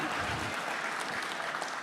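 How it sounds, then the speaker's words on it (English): A crowd at a sports hall of fame induction ceremony applauds steadily and evenly, a dense wash of clapping heard from a distance without pause. "just for that they need a round of applause."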